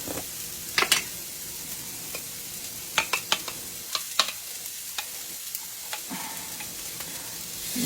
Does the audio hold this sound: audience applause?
no